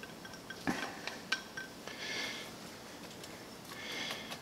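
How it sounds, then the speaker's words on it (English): Chopped onion dropping into a pan while making a simple meatloaf, heard as a few soft clinks and scrapes of utensil and cookware followed by a quiet sizzle, close and fairly faint. "we start with one chopped onion. I'm going to add that to the pan"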